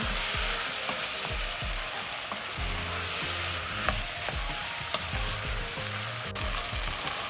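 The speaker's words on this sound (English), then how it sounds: "My potatoes and leeks, they are cooking away" Leeks and potatoes sautéing in a pan for leek and potato soup, a constant close sizzle with regular soft thumps and scrapes of stirring, no voices.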